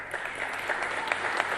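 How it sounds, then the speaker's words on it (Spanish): Applause from an audience, steady overlapping clapping that fills the whole stretch at moderate distance, with no voices over it. "Lo aplauden."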